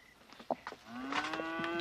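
A cow presented as a lottery prize in a TV comedy scene moos once in a long, drawn-out call that rises toward the end, with a few brief background sounds just before it and no talk over it.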